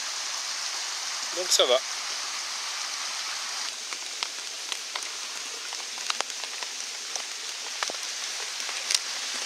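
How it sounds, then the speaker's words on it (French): Light rain patters steadily on a stretched tarp roof over a forest bivouac camp, a soft continuous hiss with scattered distinct drops; someone speaks briefly near the start. "pour nous protéger de la pluie, on s'est tendu un petit toit au-dessus"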